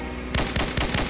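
Gunshots from a mobile video game ring out as four quick, loud bursts spaced evenly after a brief quiet moment, with no voice over them.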